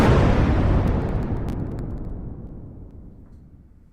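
A single deep explosion sound effect booms out loudly at once, then rumbles and fades away over a few seconds into near silence, with no talk.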